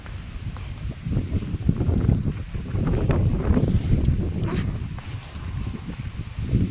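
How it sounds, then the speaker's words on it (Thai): Strong wind buffets the microphone outdoors, a rough, rumbling roar that swells and eases in gusts, loudest in the middle and tapering toward the end. "ลมแรงมาก"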